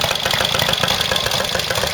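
A 1966 Triumph TR6SR motorcycle engine runs at a steady idle, close and loud, with a dense, even rumble and quick regular firing pulses throughout and no voices.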